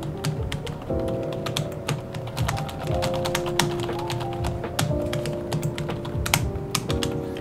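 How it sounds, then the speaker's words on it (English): Fast, irregular typing on a compact white Mi MIIIW membrane keyboard with no mechanical switches, soft close taps running continuously over a steady background tone, with no speech. "This is how it sounds like when you type."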